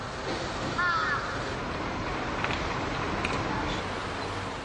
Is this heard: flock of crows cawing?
yes